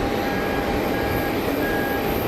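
An Airbus A220-100 taxis at Geneva Airport, a steady, continuous engine rumble and hum holding at an even, moderately loud level with faint tonal whines above it, and no talking.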